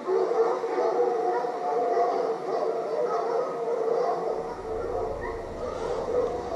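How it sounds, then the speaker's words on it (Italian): Hunting dogs in a hunting video game bark and howl in the distance, with continuous baying and yips under the game's ambient sound; a low rumble enters near the end. "Ecco i cani laggiù, guardate quanto vanno via."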